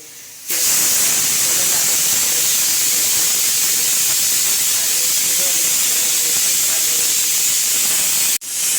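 A pressure cooker releases steam in a loud, steady, close hiss that starts abruptly, holds for about eight seconds, then cuts off sharply.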